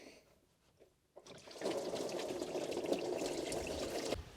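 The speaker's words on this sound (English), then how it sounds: "Next up, I'm gonna drain the coolant and maybe some oil" Engine coolant drains from a 4x4 camper in a steady pouring trickle that starts after a second of near quiet, runs continuously, then cuts off near the end.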